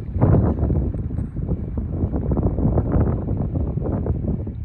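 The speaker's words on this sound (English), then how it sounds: "These gusts seem worse than yesterday." Strong wind gusts of roughly 45 to 60 mph buffet a car from inside, a loud, steady low rumble with surging swells and no break.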